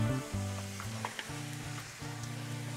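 Garlic sizzles gently in hot oil in a pan as kale is added, with a constant frying hiss and a few light stirring clicks over a steady background hum.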